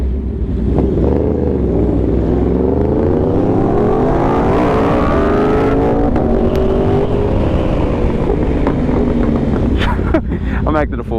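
A 2021 Yamaha R1 sportbike roars loudly during a wheelie, engine pitch climbing steadily through the revs before easing off, with heavy wind rush and a brief shout near the end.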